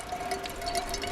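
Fresh water trickling from coastal rocks into a cup, a close, steady trickle with small drip-like splashes and no talking.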